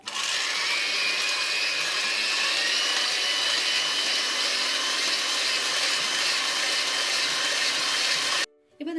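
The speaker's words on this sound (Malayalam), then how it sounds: "ഇനി നമുക്ക് നമ്മുടെ മുട്ടയുടെ വെള്ള നന്നായിട്ടൊന്ന് ബീറ്റ് ചെയ്തെടുക്കണം. ഞാനിപ്പോൾ എഗ് ബീറ്ററാണ് എടുത്തിട്ടുള്ളത്." An electric egg beater whips egg whites in a bowl with a steady high whirring hum that holds evenly, then stops briefly near the end.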